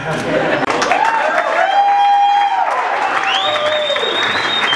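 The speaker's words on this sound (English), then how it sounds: "ladies and gentlemen, one more big round of applause" Wedding guests break into a big round of applause at a reception, dense clapping mixed with a few cheers and whoops from the crowd, loud and sustained, with a voice over a microphone speaking above it.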